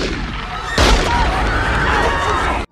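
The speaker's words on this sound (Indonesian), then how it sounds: "bersamaan dengan terdengarnya dua tembakan" Gunshots in a scene from The Godfather as a mafia don's daughter is hit: a sudden loud blast rises out of a busy, crowded soundtrack and rings on densely for nearly two seconds before cutting off.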